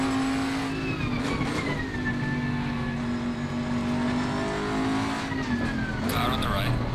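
A Bentley GT3 race car engine drones loud and steady at the Nurburgring in a sim racing game, its pitch rising and falling with gear changes, with another voice talking over it and a brief tire squeal near the end.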